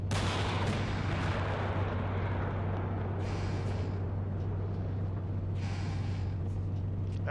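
Gunfire and tank cannon fire in Steel Beasts Pro PE multiplayer combat: a steady rumbling bed with distant artillery-like booms and muffled shots, a couple of sharper bursts standing out, no voices heard.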